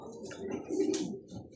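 Racing pigeons coo softly as they drop in and enter their loft, a few low warbling calls close by with faint chirps and light background noise.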